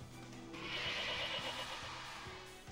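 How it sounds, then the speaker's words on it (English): A creature in the video game Tales of Legendia gives one drawn-out, bleating, goat-like cry that wavers for a couple of seconds against a quiet game-music background. "It sounds like a goat."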